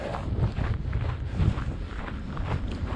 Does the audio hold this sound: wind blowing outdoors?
yes